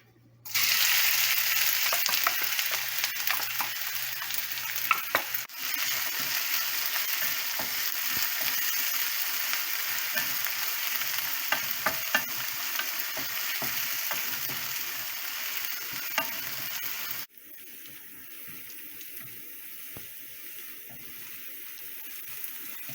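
A blended garlic and ginger paste sizzles loudly in a hot pan, with intermittent scraping of a spoon as it is stirred, before the sizzle drops to a quieter hiss near the end.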